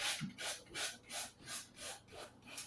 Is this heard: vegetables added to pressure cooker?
no